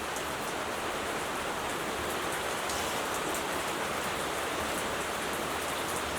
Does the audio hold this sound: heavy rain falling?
yes